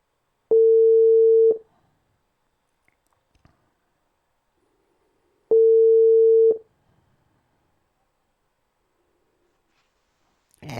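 Ringback tone while phoning someone: two steady one-second beeps about four seconds apart, clear and alone against silence.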